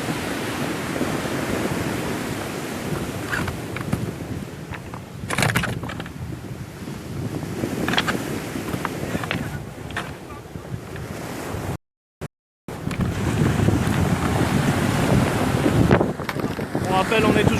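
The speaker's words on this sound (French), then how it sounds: "comme il y a beaucoup de vent" Strong wind buffets the microphone during a live sea rescue broadcast, a steady rough roar mixed with the wash of waves that drops out for a moment and then returns just as loud.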